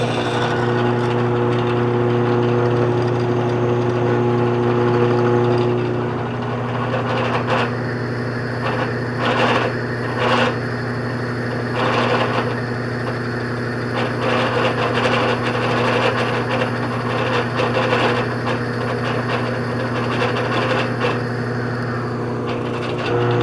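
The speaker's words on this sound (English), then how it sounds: "Drill our hole with the pilot." Steady mechanical whine of a drill boring a pilot hole in a jeweler's bench pin, running continuously with brief shifts in pitch and intensity as it bores into the material.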